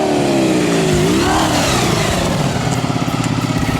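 A Honda BFR 400R motorcycle engine revs, the pitch rising and dipping before settling into a steady mid-range drone that pulses near the end, loud and close.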